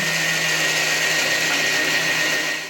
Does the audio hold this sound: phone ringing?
no